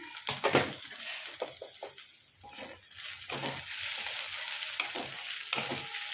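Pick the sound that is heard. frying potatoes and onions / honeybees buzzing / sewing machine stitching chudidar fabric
frying potatoes and onions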